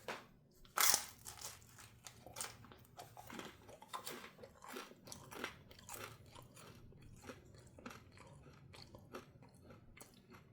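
Close, crisp bites and crunchy chewing on the crust of a Roberta's margherita pizza baked with olive oil on the sheet, a sharp loud bite near the start followed by a steady run of smaller crunches and chews, no talking.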